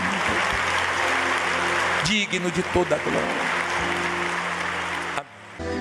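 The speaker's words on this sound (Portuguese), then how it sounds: "Os aplausos são para Ti" A church congregation applauds during a worship service, the clapping running under a preacher's amplified voice and sustained musical tones, then cutting off abruptly near the end.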